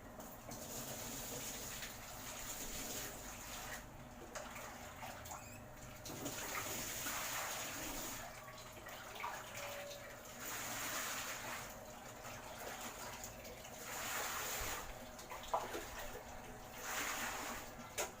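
Water runs steadily into a basin for hand-washing laundry, a faint continuous splashing and gurgling that keeps on throughout.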